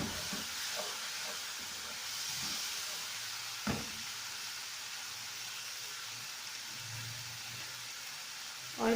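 Spices including coriander powder frying in oil in a pan for homemade pizza, a steady soft hiss and sizzle throughout with a couple of brief clinks, faint and continuous.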